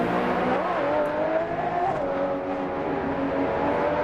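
Tyres of a Porsche GT2-class race car squeal and scrub in a racing video game, a steady engine drone with a wavering high tyre whine running throughout.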